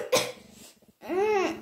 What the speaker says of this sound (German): Oh, ihr habt aber einen dollen Husten.